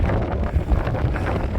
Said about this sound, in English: Oh, god, is it windy.